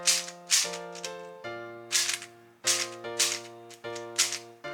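A MoYu WeiLong V10 speed cube is turned quickly, giving bursts of sharp plastic clicking and rattling in a steady rhythm over a tonal background.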